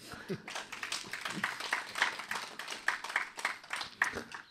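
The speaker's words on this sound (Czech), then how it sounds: "myslím, že to je na potlesk" Studio audience applause on a Czech television game show, a stretch of scattered, moderately quiet hand clapping with uneven bursts, heard alone.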